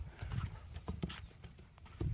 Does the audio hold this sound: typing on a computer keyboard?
no